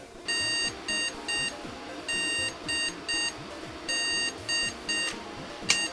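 A computer's AMI BIOS error beep code: one long tone followed by two short ones, cycling three times, loud and clear over a faint hum.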